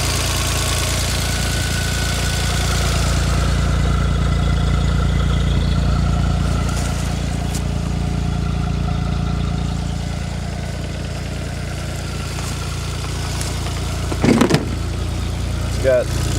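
A 2004 Arctic Cat 660 Turbo Touring snowmobile engine idles steadily and loudly up close, with a constant low hum. A couple of brief knocks come near the end.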